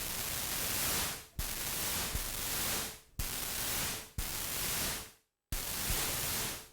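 Steady synthesized white noise hisses in bursts, cutting out abruptly several times, with one short stretch of silence near the end.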